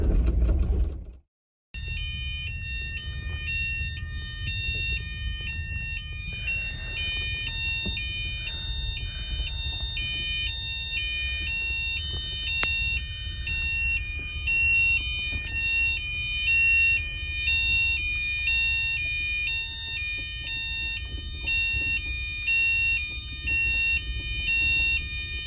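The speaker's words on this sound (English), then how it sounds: "The fire alarm just went off at like 6:25" Fire alarm sounding aboard the overnight Caledonian Sleeper train from Scotland to England, a loud, continuous high-pitched electronic tone that starts abruptly after a brief silence and keeps ringing steadily over a low cabin hum.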